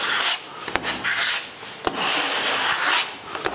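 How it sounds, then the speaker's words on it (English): A putty knife spreads putty across a wooden surface in close, scraping strokes, each rasping pass broken by brief pauses and light taps of the blade. "I'm getting some of that putty onto my knife, and then I'm just applying it"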